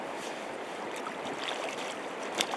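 Cold river water rushes and gurgles steadily as tag bags are washed in the stream, a constant close wash of noise with no talking.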